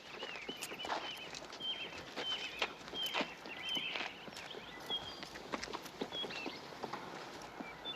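A horse walks on a farm, its hooves clip-clopping in a quick, uneven patter at a moderate distance, with no talking.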